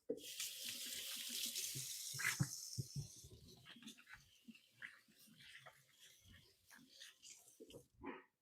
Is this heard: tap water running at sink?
yes